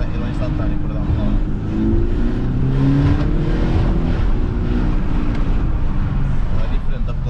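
An Audi A7 3.0 TDI biturbo diesel with a Stage 1 tune revs in S mode, a deep sustained engine drone rising and falling in pitch while people talk over it.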